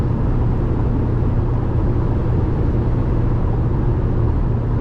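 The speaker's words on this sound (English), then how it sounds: "I'm gonna pass these two cars too, so you can see how it holds at a bit of a higher speed." Inside a tuned 3rd gen Toyota Tacoma cruising at around 80 mph on a highway, a constant loud low rumble of engine and road noise continues without a break.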